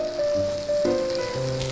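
Camp-style hot sandwich maker grilling on an iron plate kept hot by back-to-back use, a steady close sizzle with a faint tonal hum running throughout.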